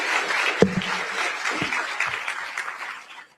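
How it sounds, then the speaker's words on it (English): Attendees at a political breakfast forum applaud sponsors, a moderate burst of clapping with a few sharper individual claps that tapers off toward the end. "Please give them a round of applause."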